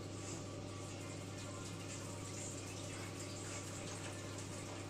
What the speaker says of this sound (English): I'm using my kettle, and we are pouring the water.